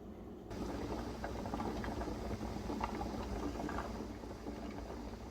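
Water heating on high in a Presto 23-quart pressure canner, a steady low rumbling hiss with faint bubbling that stays even throughout, no voices.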